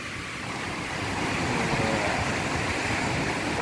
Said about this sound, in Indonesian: ini perpaduan ombak yang datang ini bagus banget